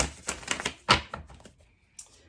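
Tarot cards being shuffled, with a few close, sharp flicking and riffling bursts and a pause near the end.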